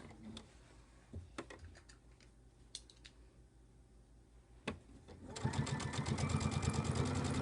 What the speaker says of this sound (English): I just want to top stitch right down the sides.